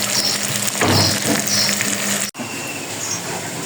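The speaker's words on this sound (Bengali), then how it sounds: "গরম জলটা ঢেলে দেবো" Hot water is poured into a curry in a hot pan, giving a loud continuous sizzle and bubbling hiss with a brief break partway through before the frying noise resumes.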